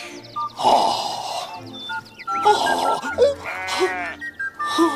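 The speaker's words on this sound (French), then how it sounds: "Regardez tous ces moutons." A flock of sheep bleating, several loud, close wavering bleats repeated over a few seconds.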